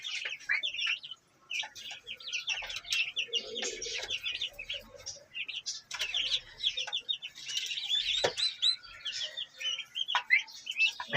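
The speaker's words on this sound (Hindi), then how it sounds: "वो छोटे छोटे बच्चे जो हैं वो सुरखाब के हैं।" Golden pheasant and turkey chicks chirp in a dense, continuous chorus of high peeping calls, with scattered louder cheeps and a brief low clucking partway through, close and steady throughout.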